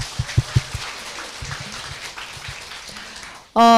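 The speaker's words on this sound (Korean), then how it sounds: "환영의 박수 먼저 치고 시작하도록 하겠습니다" A seminar audience at an Atomy marketing-plan session gives light welcoming applause, with a few louder thumps early on and scattered, thin clapping that fades before a sudden tonal sound cuts in at the end.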